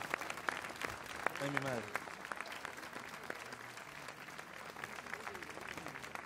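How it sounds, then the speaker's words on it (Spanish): Applause from a television variety show audience for a couple named Pancho and María Antonia, steady clapping through the whole stretch with someone speaking and exclaiming briefly over it. "Vamos a darle un fortísimo aplauso, como ellos se merecen, a Pancho y María Antonia"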